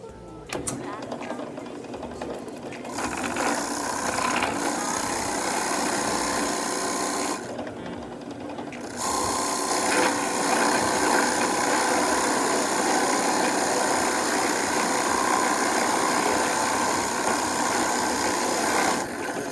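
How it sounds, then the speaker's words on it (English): A wood lathe spins a hollowed wooden cup as its bore is cleaned up. A steady, close motor hum carries throughout with brief dips, and a voice talks over it. "cleaning this hole up on the lathe"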